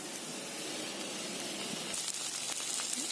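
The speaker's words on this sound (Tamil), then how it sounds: "அதை ஷாலோ ஃப்ரை பண்ணிக்கலாம்" Idli cubes shallow frying in hot oil, a soft continuous hiss with faint crackles that grow a little brighter toward the end, quiet and without talking.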